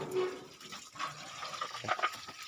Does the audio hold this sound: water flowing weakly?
yes